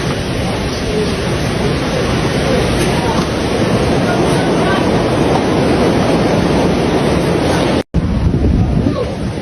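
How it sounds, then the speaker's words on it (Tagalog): Strong typhoon waves crash at a baywalk in Baler, Aurora, during Typhoon Uwan, a loud continuous roar of surf mixed with heavy wind buffeting on the microphone, cut by a brief dropout near the end. "Ayan po, napakalakas po ng alon"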